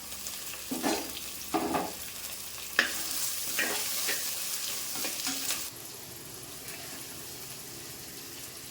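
Chopped small and big onions with green chillies frying in a pan, heard as a close sizzle broken by several spoon stirs and scrapes, the hiss dropping lower and calmer partway through, with no talking.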